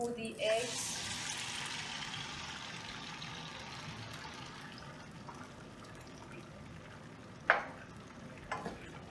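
Eggs being stirred and fried in a pan for Chinese tomato and eggs, a steady soft sizzle running throughout at low level, with a sharper clink near the start and a couple of brief knocks toward the end.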